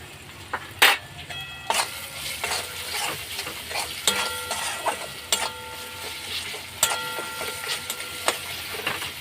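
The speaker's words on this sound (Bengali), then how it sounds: "এইভাবে ভালো করে নাড়াচাড়া করে আমি টমেটোগুলোকে ভালো করে কষে নিচ্ছি।" Tomatoes with chili powder fry in a pan as a spoon scrapes and stirs, giving sharp clacks every second or so over a steady, close sizzle, with no voices.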